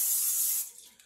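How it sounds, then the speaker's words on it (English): A short burst of non-stick cooking spray hisses into a crock pot, bright and close for about half a second before cutting off into quiet. "we're going to spray our crock pot"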